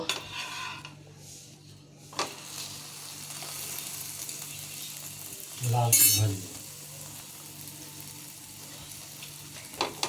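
Aloo paratha fries in a little oil in a pan with a steady soft sizzle, broken by a brief louder burst of sizzling and clatter midway as it is handled.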